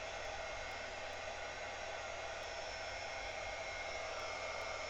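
A hair dryer blows continuously while drying hair, giving an even, unbroken airy roar at moderate level, heard alone without talk.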